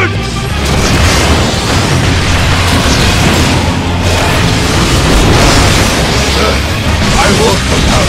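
A Rocket Punch attack from Final Fantasy XIV lands as a loud, dense explosive boom, followed by a sustained roar of crashing, rumbling blasts and battle effects that fills the whole stretch without letup.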